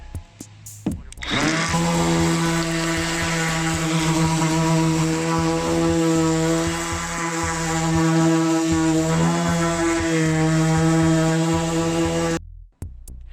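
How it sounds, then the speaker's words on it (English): A DeWalt battery-powered sander fitted with coarse 80 or 60 grit runs across scrap wood, a loud, steady whirring drone with a strong hum that holds for about eleven seconds before cutting off abruptly. "let's do a little test of this battery powered sander from DeWalt"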